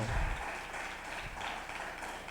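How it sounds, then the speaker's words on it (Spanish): A church congregation applauds during a worship service, a soft, steady wash of clapping that sounds somewhat distant and fairly quiet throughout. "Dale un aplauso al Señor."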